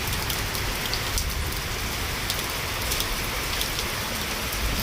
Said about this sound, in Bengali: মুষলধারায় বৃষ্টি হইতেছে